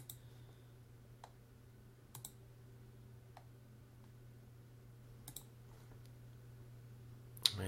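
Computer mouse clicking while working in video editing software, a few sharp isolated clicks spaced several seconds apart over a steady low hum, quiet and close.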